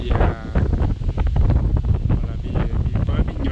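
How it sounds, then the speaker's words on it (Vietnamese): Strong wind blows among blooming peach trees, roaring steadily and loudly into the microphone with gusty buffeting for the whole stretch. "gió to quá làm cho nụ đây, gió to gió thổi này"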